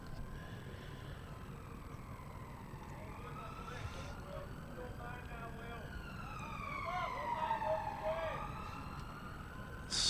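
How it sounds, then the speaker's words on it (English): Distant sirens wail and sweep up and down on the road outside a cricket ground during a county match, faint and continuous over the crowd and ground ambience. "Sirens going off in the road outside."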